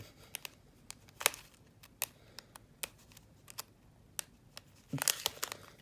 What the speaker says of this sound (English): let me cut this open.